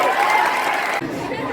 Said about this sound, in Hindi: एक कदम स्वच्छता की ओर। जोरदार ताली बजाइए।